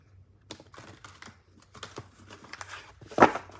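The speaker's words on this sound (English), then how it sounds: "I'm trying to get used to shuffling." Someone handles and shuffles a very large deck of cards indoors, producing a run of quiet, scattered riffling clicks and flicks that builds to a denser burst near the end.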